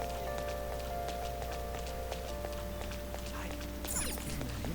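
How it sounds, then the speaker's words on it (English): Steady rain ambience from the video game Persona 5, a constant soft hiss of falling rain with occasional faint drips and thin tones, continuous and even throughout, no speech over it. "I like the ambiance, the rain."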